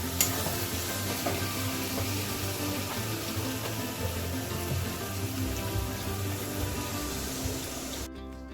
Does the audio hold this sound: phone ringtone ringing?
no